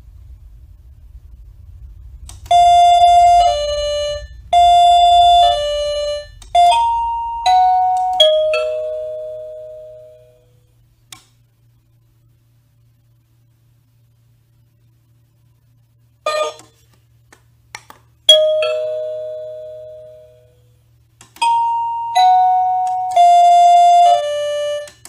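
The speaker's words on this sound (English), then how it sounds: "Press the button on your transmitter, and now your transmitter will have the newly desired chime." Classroom answer buzzer transmitter playing its chime: loud, clear electronic ding-dong tones in several quick melodic runs, then a long silence before more bursts of the same bright chime.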